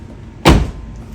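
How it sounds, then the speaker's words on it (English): A 2009 Toyota Corolla Turbo door fitted with TRD door stabilizers shuts with one solid, close thump, followed by brief quiet. "I can tell just the difference in the door closing, how it locks in on that."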